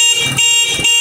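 A motorcycle horn, repaired after a crossed-battery fault, sounds one loud, steady, unbroken electric honk held for about a second.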